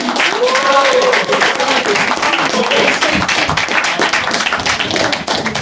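Comedy club crowd at de Peper Amsterdam applauds steadily and loudly after a stand-up set, dense clapping filling the whole stretch, with voices and cheering mixed in.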